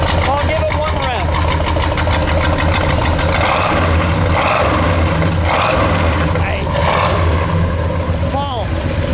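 A 1970 Oldsmobile 442 W30 convertible's 455 V8 idles loud and close with a rumbling lope, swelling in a few throttle surges, while people talk over it throughout.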